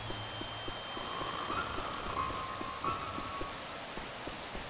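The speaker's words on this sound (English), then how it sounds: "It's raining. It's pouring." Rain falls steadily in a video game, a continuous patter with regular soft knocking taps and a faint tonal hum running beneath it, no speech.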